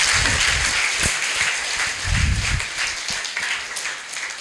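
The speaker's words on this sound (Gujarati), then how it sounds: "જોરદાર તાળીઓથી આપણે એમનું સ્વાગત કરીએ" An assembly audience at a school gathering claps to welcome guests, a dense, fairly loud wash of many hands that rises and dips slightly and carries on for several seconds.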